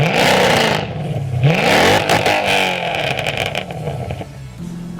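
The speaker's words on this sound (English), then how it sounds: "The best part about this car, though, is its exhaust." A Mercedes C63 AMG with a loud custom exhaust roars close by, revving hard with rising and falling engine pitch and crackling bursts, filling the whole clip with no speech.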